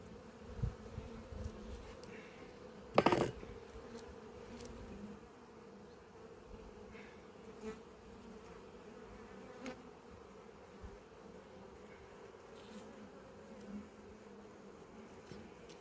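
Honeybees buzz around an open apiary hive, a soft continuous drone with occasional insects passing close, plus a brief louder knock early on; no speech.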